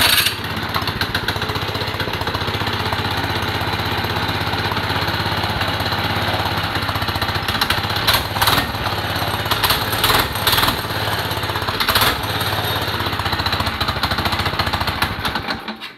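A small 2.5 horsepower engine on a Baja Doodle Bug runs steadily and loudly for the whole stretch, with a rough, uneven sputtering idle and no talking.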